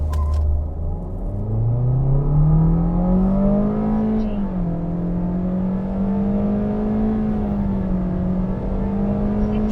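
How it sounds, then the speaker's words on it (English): A 2023 Toyota Corolla with automatic front-wheel drive accelerates hard in a steady, loud engine drone whose pitch climbs smoothly, dips briefly at a shift, then rises again, continuous and close throughout. "Now let's do a quick acceleration test in the Corolla."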